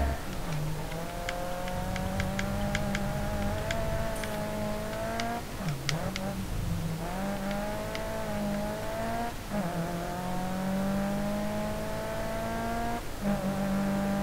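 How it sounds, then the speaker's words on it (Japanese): A racing car engine in a racing video game, GRID Autosport, drones steadily with harmonic pitch rising and falling as it revs and shifts gears, heard from the in-car view, continuous and close throughout. "あ、エンジン音いいね。"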